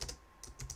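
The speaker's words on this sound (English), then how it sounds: "Just go in there, go to the title, and just type in the name" Quick keystrokes on a computer keyboard while entering a page title, heard as a few short close-up clusters of clicks separated by brief pauses, with no voices.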